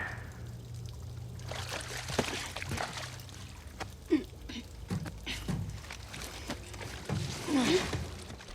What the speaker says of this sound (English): the creaks and sounds of water dripping from old structures looks and sounds amazing